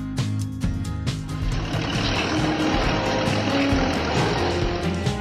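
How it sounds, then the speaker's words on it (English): A front loader works nearby with a loud continuous engine rumble and mechanical clatter, the heavy machine noise steady throughout without speech. "Nine, the front loader"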